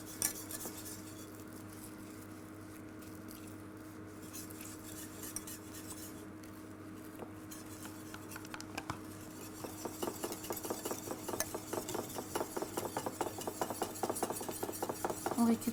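Spatula mixing hydrated gelatin into a dessert mixture in a bowl for a coconut, strawberry and hibiscus entremet, a steady soft scraping and clinking that grows busier and louder in the second half, with no talk.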